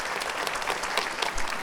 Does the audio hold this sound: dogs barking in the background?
no